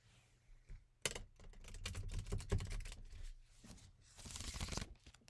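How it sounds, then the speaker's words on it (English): Playing cards are shuffled by hand in a quiet room, a series of quick riffling and flicking bursts with short pauses between them. "let me finalize my shuffling"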